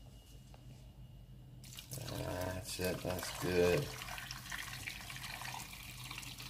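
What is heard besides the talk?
pouring chicken stock into a pot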